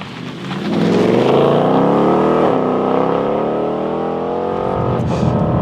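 A deep Ford Mustang V8 engine revs up and holds a loud, throaty roar, close by, with a rising pitch early on and no voices.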